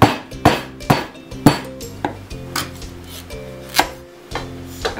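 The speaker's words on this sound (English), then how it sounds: "You want to cut the butternut squash." Big kitchen knife chopping through a butternut squash on a cutting board, a series of sharp, close thuds at an irregular rhythm, about a dozen strikes with hard board knocks, no talk.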